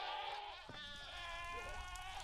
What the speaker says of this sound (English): That goat's on fire.